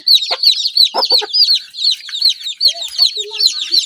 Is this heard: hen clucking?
yes